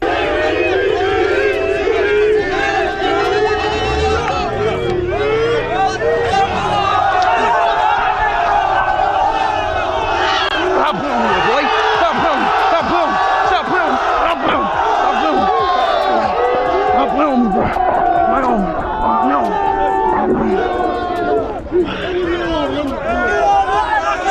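A large crowd in Algeria cheers on a fighter at a goat fight, a loud, continuous roar of shouting voices and chanting, dense and sustained throughout with individual shouts rising out of the mass.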